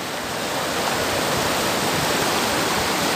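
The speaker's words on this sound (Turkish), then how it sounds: "Suyu buz gibi maşallah gürül gürül." River water rushes loudly and steadily through a cold mountain stream, a dense continuous roar of flowing water heard up close with no voices.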